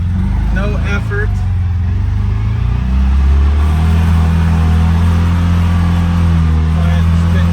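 Loud, close engine drone from a CFMoto UForce 600 UTV crawling slowly up a slope, its steady low hum rising in pitch partway through as someone talks over it.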